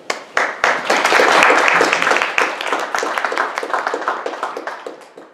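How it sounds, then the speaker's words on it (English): An audience bursts into applause for a speaker, a dense, loud wash of many hands that swells quickly, holds, then gradually thins and fades out. "You're clapping for him, right?"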